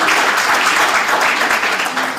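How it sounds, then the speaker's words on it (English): Sustained audience applause fills a regional address hall in Otjozondjupa, a steady dense clapping wash at close range with no pause, slightly easing toward the end. "A round of applause for yourself"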